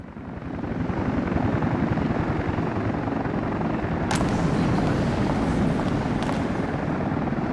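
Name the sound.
helicopters flying over town in a video game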